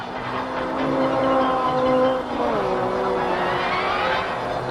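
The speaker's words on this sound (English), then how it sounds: "Paddy slipstreams Jane's Lotus, now out of calculations, but still going mighty fast" A race car at the Sandown six-hour touring race, its engine droning loud and steady. Partway through, the pitch drops and then climbs again as the car shifts gear and drives on.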